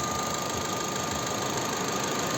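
A 2010 Opel Zafira facelift with a 1.8 MPI petrol engine and manual gearbox idles up close, giving a steady, even mechanical hum with a faint whine and no talk.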